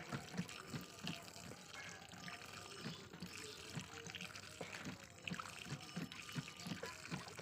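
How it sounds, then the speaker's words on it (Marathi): Water from an old hand pump splashing and trickling onto plants near a tulsi, a steady outdoor pour with soft irregular splashes throughout, no talk. "झाडाला पाणी घालण्यासाठी त्यांनी जुन्या हँडपंपचा वापर बघा कसा केलाय"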